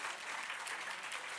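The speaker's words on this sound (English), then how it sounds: "Can we all clap to have him here, please?" Audience in a hall applauding steadily to welcome Mitra Malani on stage; a dense, continuous patter of many hands clapping throughout, fairly even in loudness, without talk.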